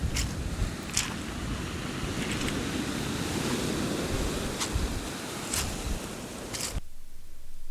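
Strong wind gusts across the beach at Brook Bay on the Isle of Wight, a loud steady roar with deep buffeting rumble and occasional sharp knocks, cutting off abruptly near the end.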